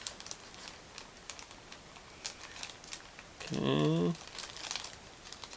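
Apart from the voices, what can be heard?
cutting through plastic bag of model kit parts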